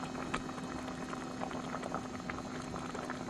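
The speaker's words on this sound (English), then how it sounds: "Checking on the stew tonight. Okay, so Should thicken up." Stew bubbling in a pan over a camp stove at a campsite, a steady close simmer of dense popping and gurgling bubbles, fairly quiet and continuous with no talking.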